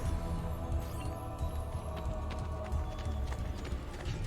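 Horse hooves from the video game Assassin's Creed Brotherhood clop in a fast, steady rhythm, close and fairly loud, over a layer of game ambience.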